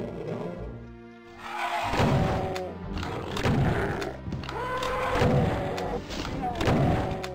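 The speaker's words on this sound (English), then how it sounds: "Get the super shotgun back out, take out the Hell Knight." In the Doom II video game, a super shotgun fires repeatedly at a Hell Knight, with heavy booming blasts landing every second or so over game music and ambience, while a voice talks alongside.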